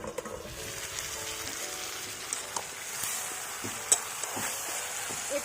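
Chicken curry made from desi chicken cooks in a pan with no oil while a utensil stirs it, giving a soft sizzle with scattered scraping clicks, close and moderately quiet.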